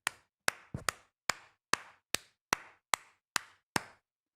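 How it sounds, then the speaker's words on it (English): A single person claps about ten times in a slow, even rhythm, each sharp crack close and distinct, separated by short silences. "Clap for the chatter."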